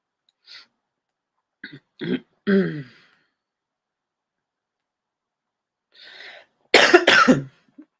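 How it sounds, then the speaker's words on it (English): Scattered coughs and throat clearing with long silent gaps between them, ending in a louder, harsher rasping cough nearby. "Coughing is worse and worse."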